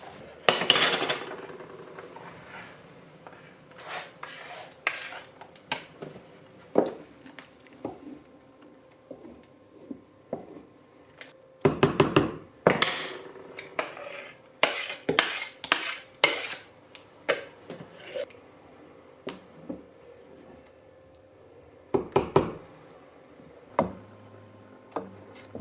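A spoon clinks and scrapes against a pot of sour rye żurek soup with irregular bursts of stirring and taps, close and crisp, separated by quiet gaps and no speech.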